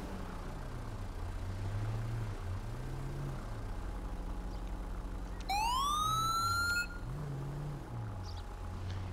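A police car siren in Grand Theft Auto V with the LSPDFR mod wails in one loud rising sweep over a steady low engine drone, fading out after about a second and a half, with no talk.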